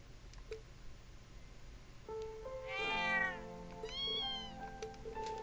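A mother cat in the Trails of Cold Steel 2 video game gives two clear meows, a longer rising one followed by a shorter one, over a quiet game background with faint ticks.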